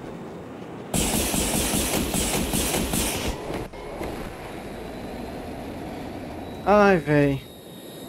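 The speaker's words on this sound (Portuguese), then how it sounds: "Pode tirar esses jatos do jogo" Jet aircraft in Battlefield 2042 roar past in a loud, broadband rush for several seconds, then fade into a lower rumble before a man's short exclamation.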